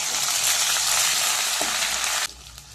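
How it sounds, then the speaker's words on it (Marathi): Crushed red chilli, ginger and garlic paste sizzles loudly and steadily in a hot pan for dal makhani, a dense frying hiss that cuts off abruptly near the end, no talking. "मी लाल मिरचीचा ठेचा, अद्रक आणि लसणाची पेस्ट केली आहे, ती आता त्याला घालते"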